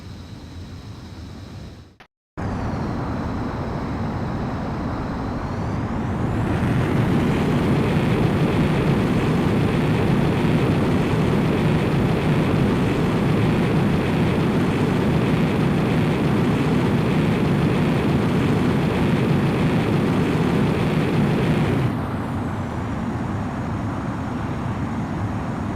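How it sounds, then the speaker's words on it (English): A fighter jet in Ace Combat X spools up for takeoff. A steady whine swells into a loud roaring rush that holds for a long stretch and then eases off, with no voices over it. "Griffith 1, you are cleared for takeoff."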